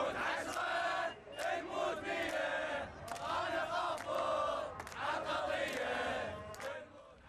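University students at a Baghdad protest chant anti-government slogans in unison, a loud rhythmic crowd roar rising and falling in repeated phrases, close and dense throughout.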